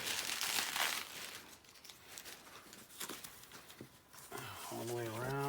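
Packing tape peeled off the locking clamps of a Peavey guitar: close, crinkly tearing and rustling in several bursts, ending with a voice speaking.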